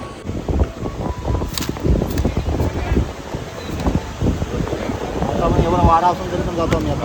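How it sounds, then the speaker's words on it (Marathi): Strong monsoon wind gusts across the open seaside fish auction market at Harnai, roaring and buffeting the microphone loudly throughout, with voices faintly audible beneath the rush. "वारा आता पण वारा जास्त आज"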